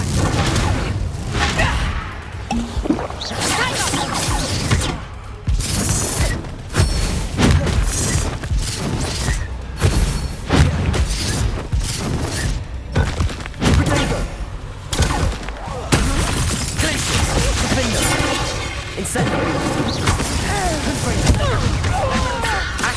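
An Incendio fire spell cast in Hogwarts Legacy brings loud bursting, booming combat effects in rapid succession, dense and continuous, with a voice speaking over the battle.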